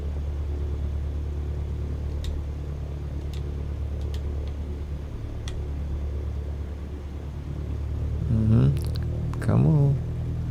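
An aircraft engine in a flight simulator game drones low and steady as the throttle eases up, with a few faint clicks above it. A voice speaks briefly over the rumble near the end.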